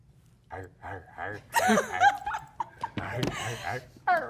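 Person imitating a dog barking on request, giving a few short voiced yelps mixed with laughter and chatter from others nearby.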